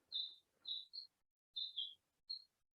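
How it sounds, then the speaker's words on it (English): A single sparrow chirps from its nest in short, high, clear tweets, two or three notes at a time with brief pauses between, close by and otherwise quiet. "It's just the one sparrow, and he or she sits up in that nest and just sings, just tweets and chirps and having a great time."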